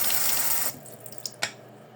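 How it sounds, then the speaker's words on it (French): Water runs from a tap into a small container, a steady broadband rush for about 0.7 seconds that then cuts off, followed by a few faint drips and small knocks. "Et là, je vais mettre l'eau."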